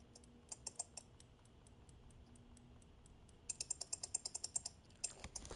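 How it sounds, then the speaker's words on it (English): Computer keyboard clicking during a gaming session: light, quiet keystrokes tap sparsely at first, then speed into a steady rapid run of clicks near the end, with no talking over them. "I can't hear it over Quinn's clicking"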